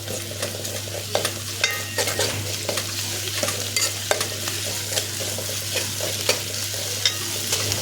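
Ginger sizzles and fries in a hot pan while a spoon stirs it, with repeated scraping clicks over a steady crackling hiss and a low hum beneath, close and fairly loud, no talking.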